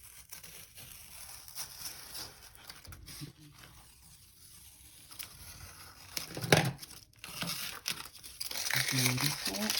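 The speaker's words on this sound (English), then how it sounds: "you're going to gently remove the tape" Masking tape peeled slowly off watercolor paper on a Christmas tree card, with soft crinkling and tearing that grows louder toward the end, heard close up under quiet background talk.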